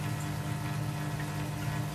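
Water runs steadily into a container being filled from a tank, a constant rushing, pump-like flow that stays even and close throughout with no talking.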